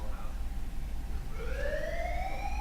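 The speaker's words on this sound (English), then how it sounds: "the alarms began to sound, loud, piercing shit. like police sirens of hell" A siren starts rising midway, its wailing tone climbing steadily in pitch over a low rumbling background, fairly close and loud.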